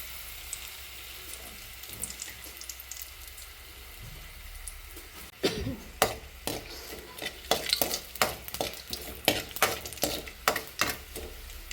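Crushed garlic and curry leaves dropped into hot oil after mustard seeds, starting as a steady low hiss and then breaking into loud, crackling spatters and sputters for the rest of the clip.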